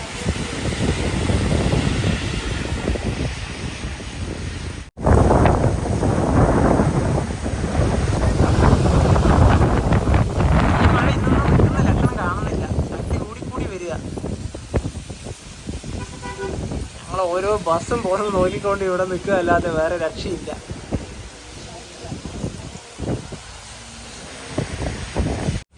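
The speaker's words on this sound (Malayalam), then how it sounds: "നല്ല മഴയാണ്" Heavy, unexpected evening rain driven by wind at a roadside bus stop: a dense, steady roar that surges and eases over almost half a minute, with someone speaking throughout.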